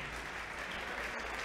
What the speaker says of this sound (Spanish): Dele ese aplauso a Él.